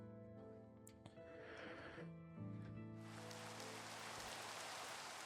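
Steady rain pattering in Minecraft, a soft continuous hiss that swells louder partway through beneath game music tones, with no talking.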